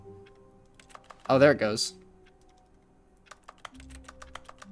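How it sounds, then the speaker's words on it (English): Keyboard typing in The Stanley Parable: faint, scattered key clicks in an office room, with someone speaking briefly partway through and a low hum beneath. "Why does it sound like I'm typing on the keyboard when I'm over here?"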